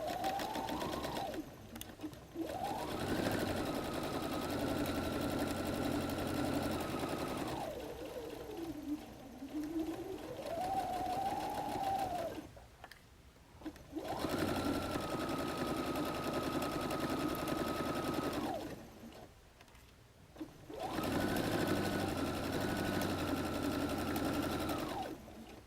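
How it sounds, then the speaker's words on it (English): A sewing machine runs in several long, steady whirring stretches while stitching a contrast piece onto a messenger bag, with brief pauses and a rising and falling motor pitch between runs, close and clear. "I'm going to be sewing down that contrast piece. And I will be sewing along this chalk line right here"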